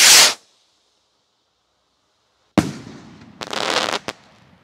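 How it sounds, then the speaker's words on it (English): A firework rocket called Radioactive bursts with a sharp loud hiss and crack at the start, then after a silent pause comes a sudden boom followed by a crackling, fizzing shower and a final pop. "Lastly, this is rocket number two in the pack, Radioactive, king of all rockets."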